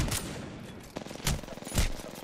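R99 submachine gun firing in a video game: several short, sharp bursts of rapid automatic fire, loud and close, spaced irregularly over about two seconds.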